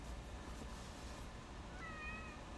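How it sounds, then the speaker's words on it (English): A cat meows indoors, quiet and fairly close, with a short tonal cry near the end over faint background hiss. "Meow. Are you hungry, Peanut?"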